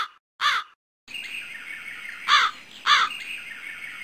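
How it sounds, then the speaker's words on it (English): A crow gives three loud, harsh caws spaced apart, the first alone in silence and the next two over a steady faint background tone. "The Clever Crow."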